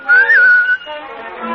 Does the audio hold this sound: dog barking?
no